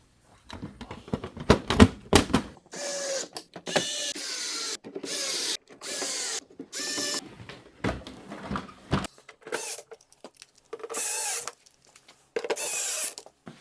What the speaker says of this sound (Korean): 이제 케이스를 어, 장착하고 볼트 채우겠습니다